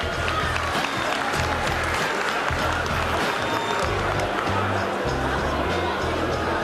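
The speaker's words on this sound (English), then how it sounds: "give Bigshotcamp a big round of applause" Crowd applause for a boxer at a docks boxing event, broad sustained clapping across the whole stretch with a low rumbling voice or noise underneath.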